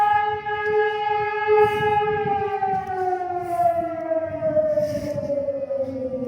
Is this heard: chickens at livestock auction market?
no